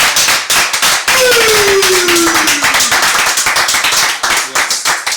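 A congregation claps at a church service in praise of the Lord Jesus Christ, with steady rhythmic hand claps throughout and a voice singing or calling out over them.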